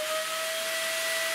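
A household vacuum cleaner, used for picking up construction debris in a renovated village-house kitchen, runs with a steady, loud whooshing roar and a constant high whine throughout.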